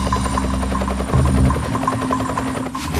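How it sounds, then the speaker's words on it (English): Helicopter flying high above Juneau, Alaska, during avalanche-control work; a loud, steady rotor drone with a rhythmic chop throbs continuously throughout, with no voices. "High above Juneau, chopper pilot Dustin Carroll is trying to start an avalanche"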